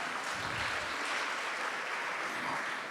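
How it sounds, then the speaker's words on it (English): Audience applause at an exhibition launch event: an even, continuous wash of distant clapping from a crowd, steady and fairly soft across about three seconds. "A round of applause."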